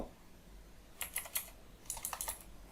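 Code being typed on a computer keyboard, two quick bursts of faint, close key clicks separated by a short pause.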